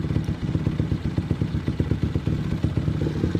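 A motorcycle engine fitted with a UMA Racing CDI and held at its 9,000 RPM limit: a close, rough, rapidly pulsing drone with a steady beat and no speech.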